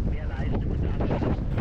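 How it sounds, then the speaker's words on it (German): Strong wind buffeting a microphone on a foggy mountain summit at about 2,100 m in freezing conditions, a steady, loud, blustery rumble filling the whole stretch, with a voice faintly mixed in. "Oben angekommen ist der Wind zum Glück nicht so stark."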